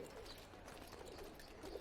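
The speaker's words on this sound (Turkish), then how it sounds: "kuş sesi duyuyorum yanımda" Birds call ambiently in the video game Assassin's Creed, with steady soft cooing like pigeons or doves over a continuous faint background bed.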